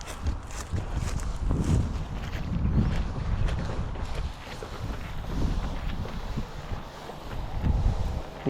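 Strong, steady wind gusting through a durian orchard on a farm plot with pepper vines and pumpkin plants, a continuous loud rushing roar with buffeting that swells and eases throughout, with no voices.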